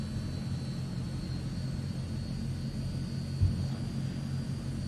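A low, steady rumble of Transall C160 turboprop engines idles while taxiing, with a faint thin whine held above it and a single soft bump partway through, continuous and without voices.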